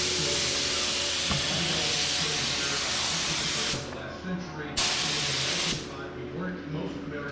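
A spray gun lays down coating in an even fan pattern on a custom Durango off-road bumper, giving a loud steady hiss that cuts off briefly twice between passes. Faint voices mix in with it.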